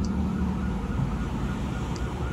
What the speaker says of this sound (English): Ambulance responding.